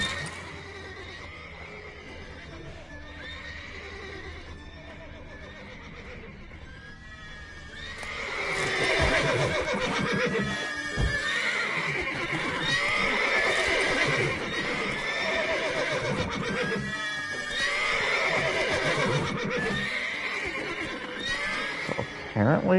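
Horses neigh and whinny repeatedly amid clopping hooves in the video game Witcher 3: Wild Hunt, quieter at first, then loud and busy with overlapping calls and steady hoofbeats.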